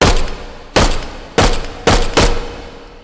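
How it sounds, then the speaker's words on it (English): A handgun fires four sharp, loud shots at uneven intervals in the VR shooting game Hot Dogs, Horseshoes, and Hand Grenades, each crack followed by a short decaying tail. "I've now chambered around, and I can pull the trigger to fire"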